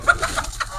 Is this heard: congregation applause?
no